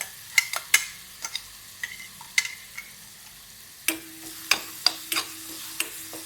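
Radish paratha filling sautéed with coriander and garlic in a pan, with intermittent spoon scrapes and stirring clacks over a faint sizzle, fairly close and moderate in level, with no voices.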